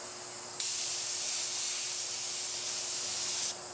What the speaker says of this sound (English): I've got my colors mixed up, and I'm going to start spraying